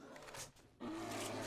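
A bear in the survival video game 7 Days To Die lets out a rough, breathy roar, then a louder sustained growl. The sound is faint overall and there is no talking.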